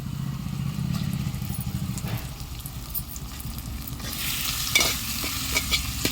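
Chicken pieces stirred through hot oil for a spicy chicken gravy, giving a steady close frying sizzle with scraping stir strokes, a little louder toward the end, with no talking.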